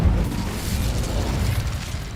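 Incendio fire spell cast in Hogwarts Legacy, a deep rumbling burst of flame that roars steadily for a couple of seconds with no talk over it.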